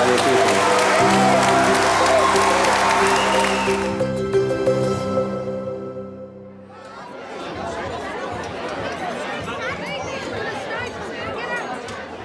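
Wedding guests at a Gypsy ceremony applaud the newly married couple, a broad wash of many clapping hands and crowd chatter that follows fading music and carries on steadily to the end.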